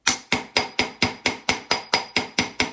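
A nylon-head multifunction hammer taps lightly on a metal stamping blank under a scratch-protecting sheet, with eleven evenly spaced sharp knocks, each decaying quickly, close and clear with no talk.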